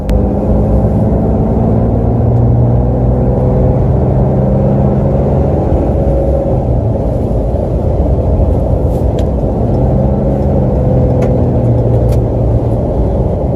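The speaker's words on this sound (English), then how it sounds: "This is for those of you who like the sound of a Cummins engine." Cummins diesel engine of a 2018 RAM 3500 pickup truck running, a steady, loud low-frequency rumble that holds continuously throughout with no talk over it.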